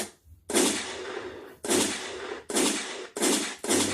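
Gunshot sound effect, five loud close bursts with sharp attacks and decaying tails, spaced unevenly and coming faster toward the end, with no talk.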